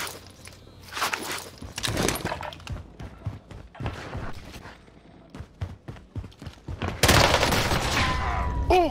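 Bursts of gunfire crack through a competitive shooter match in uneven volleys, some single shots and some rapid strings, mixed with footsteps and thuds, with a louder sustained burst near the end and brief talk in between.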